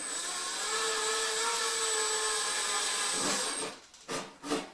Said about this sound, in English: I can get on there and drill it in.